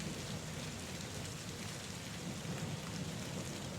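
Steady rain pours down in a dense, unbroken hiss with a low rumbling undertone of thunder, constant and fairly loud throughout, with no voices.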